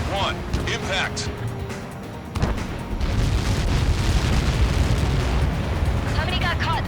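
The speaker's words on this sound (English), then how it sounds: "How many got caught in that explosion?" An explosion impact in the combat flight game Ace Combat 7 lands as a sudden heavy blast, then a dense, sustained roaring rumble. Game radio voices talk over it.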